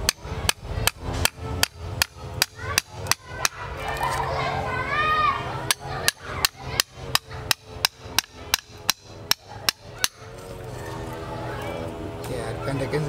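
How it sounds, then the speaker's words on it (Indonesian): Sharp, regular hammer-on-chisel strikes chiselling the roots of a banyan bonsai, close and loud in steady bursts with a short pause midway, while voices talk underneath. "Oh, masih dipahat lagi."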